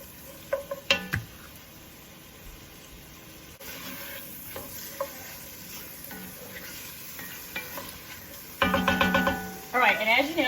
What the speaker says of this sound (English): We're gonna use that to help saute these vegetables.